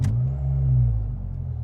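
A Ford Fiesta ST engine starts with a quick sharp catch, then settles into a deep, steady idle rumble, heard close and fairly loud for under two seconds.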